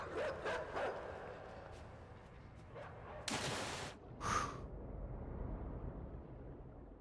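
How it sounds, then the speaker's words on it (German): Dogs barking in the video game Inside: a few sharp broadband bursts stand out from the low game music, with fainter yips in between, at moderate distance. "Nee, dort sind Hunde schon wieder."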